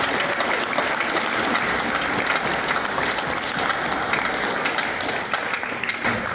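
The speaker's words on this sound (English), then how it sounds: "Let's give them one more round of applause." Audience applauding at a high school midwinter band concert, sustained full-room clapping from a large crowd, dense and even throughout with no talking over it.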